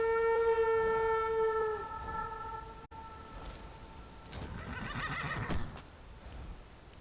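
A horse in the Skyrim video game gives a long, loud whinny that dies away, followed by muffled hoofbeats and rustling game ambience.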